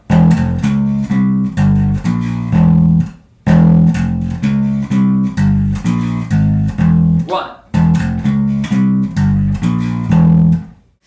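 A heavy metal riff on a distorted bass guitar in a harmonic minor mode, loud and upfront, with rhythmic chugging low notes grouped into repeating phrases separated by short pauses.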